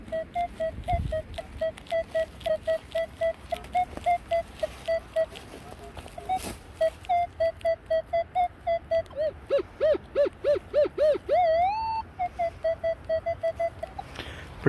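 Minelab metal detector signalling a target: a rapid, steady string of short electronic beeps, wavering and rising in pitch as the coil sweeps, close and clear over faint background noise.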